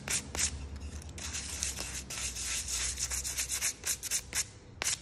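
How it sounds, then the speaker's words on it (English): Light hand sanding over a chalk paint texture finish on furniture, a close, soft rubbing scrape repeated in quick strokes with brief pauses, quiet and without talk. "It sands incredibly well."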